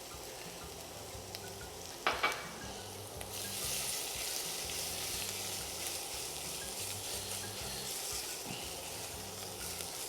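Ginger and minced garlic dropped into hot sesame oil, starting with a clatter, then a bright steady sizzle that holds evenly over a low background hum, close by.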